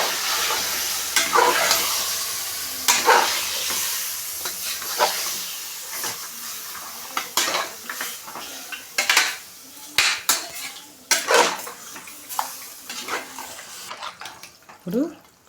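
Mutton curry with turmeric being stirred in a pan, a spoon scraping and clinking against the metal over a steady sizzling hiss, with irregular strokes throughout.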